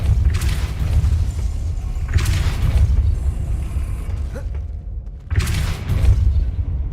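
Repeated Depulso force-push spells in Hogwarts Legacy, each a loud whooshing boom with creaking mechanical rumble, heard in bursts with a brief lull between casts.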